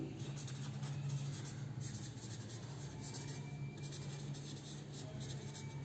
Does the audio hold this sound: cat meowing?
no